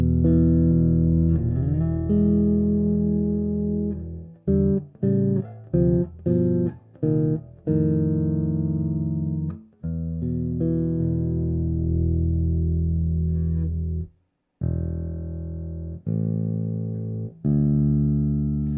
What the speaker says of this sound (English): So first I'll start messing with the high pass filter.